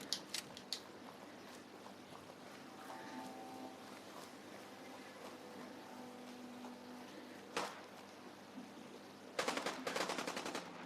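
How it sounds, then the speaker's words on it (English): Distant gunfire from a Fallout 4 fight between ghouls and super mutants, faint crackle through a quiet stretch, one sharp report mid-way, then a close rapid burst of shots near the end. "There is shooting and firing."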